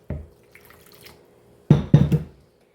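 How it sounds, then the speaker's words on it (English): Cold water splashes into a bowl in a few short bursts while making homemade butter: one brief splash, a quiet pause, then a louder double gush near the end. "Add some cold water to a bowl."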